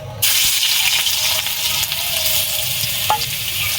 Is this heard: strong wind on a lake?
no